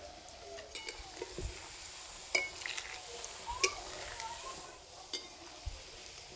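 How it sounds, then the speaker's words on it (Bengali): Grated carrot fries lightly in a pan for carrot rasmalai, with a soft sizzle under repeated stirring, scraping and occasional sharp clinks of a utensil against the pan, close and fairly quiet. "হালকা করে একটু ভেজে নিতে হবে।"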